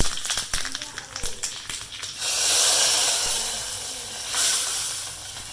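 Dried chillies and curry leaves hit hot oil in a spinach dal curry (keerai kulambu), giving a loud, steady sizzling hiss that swells after a stretch of clattering and a voice, with a second surge near the end.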